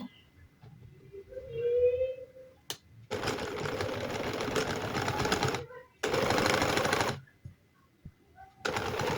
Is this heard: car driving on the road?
no